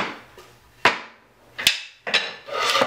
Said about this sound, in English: I'm actually going to use a nail gun.